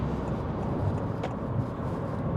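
Honda HR-V RS (2025) driving and swerving on the road, a steady, even engine and road rumble from inside the cabin with no distinct event, no talking.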